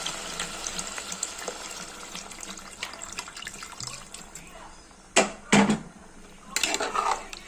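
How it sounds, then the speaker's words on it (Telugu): Water poured from a vessel into a pot of chicken sherva, a light splashing pour with metallic clinks, then a couple of louder sloshing bursts near the end; a voice speaks faintly underneath. "దీంట్లో తగినన్ని వాటర్ పోయాలండి"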